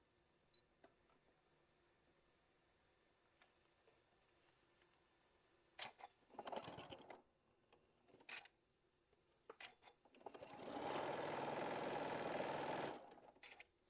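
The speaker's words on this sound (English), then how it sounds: "we're going to stitch this up right here" A sewing machine sews quilt fabric pieces at a scant quarter-inch seam: a few short stop-start bursts, then one longer, steady run of stitching close by. Quiet pauses fall between the bursts and no one speaks.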